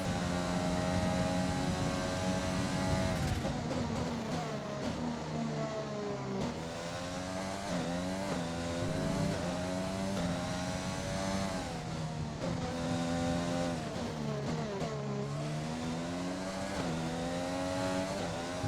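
A Formula 1 car engine at full throttle in F1 2020 on a Dutch Grand Prix lap, a loud high-pitched wail rising through the gears with repeated upshift drops and brief lifts, close and continuous.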